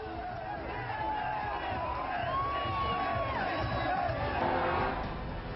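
A large crowd at Argentina's World Cup victory parade, where players greet fans from an open bus, cheering and shouting in a steady, moderately distant roar with whoops and raised voices.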